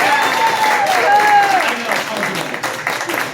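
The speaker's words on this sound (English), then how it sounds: "Give her a round of applause." An audience breaks into applause after a magic card trick at an open mic show, a dense burst of clapping that swells and then thins out, with voices and a sustained tone over it.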